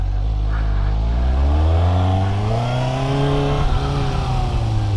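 A Suzuki GSX-S750 motorcycle engine drones loudly up close, pitch climbing and dipping as it revs through gears, with steady wind rush throughout.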